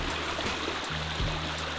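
Glacier meltwater stream in Iceland, a steady broad rush of running water that holds evenly throughout, with a low droning hum underneath.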